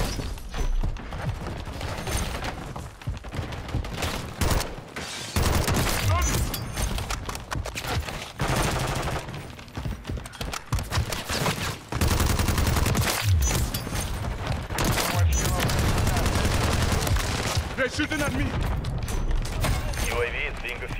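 Sustained bursts of aerial-gun killstreak fire in Call of Duty MW3 rattle through a dense in-game battle, with explosions and radio callouts layered over the shooting throughout.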